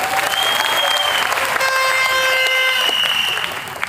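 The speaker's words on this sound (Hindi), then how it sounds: "अगर आया तो आप जोरदार क्लैप्स मारते थे" A loud, sustained round of audience applause fills a hall at a team gathering in Hyderabad, dense clapping continuing steadily with faint tones over it before easing slightly at the end.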